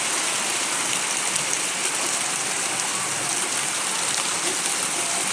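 Steady, dense rain pouring down close by, an even hiss of drops on surfaces with no pauses.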